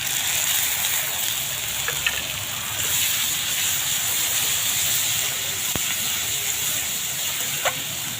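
Ginger-garlic paste hitting browned onions in a pan for potato curry gives a steady, close, bright sizzling hiss with a few faint clicks of utensils.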